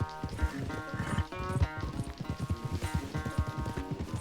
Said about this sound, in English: Vamos ver qual cavalo corre mais.